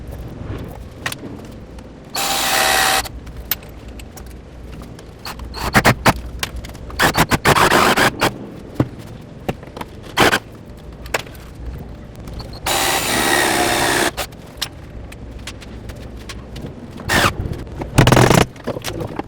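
A cordless power screwdriver drives screws into a homemade plant shelf set on a table, whirring in a few separate bursts of about a second each, with clattering and scraping handling noises in between.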